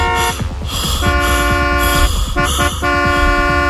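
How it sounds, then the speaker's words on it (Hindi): A car horn blares in several long, loud honks with brief gaps, close by, over a rumbling engine. "एक कार के हॉर्न से"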